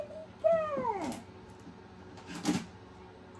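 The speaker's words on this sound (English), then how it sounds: "He's a kitty cat." A kitten gives a clear, rising-falling meow close by, followed a second later by a shorter, softer mew, with quiet room noise between.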